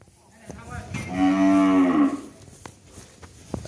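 Cattle at a breeding farm in Long An give one loud, sustained moo of about a second, close to the microphone, followed by faint clicks and low farmyard noise.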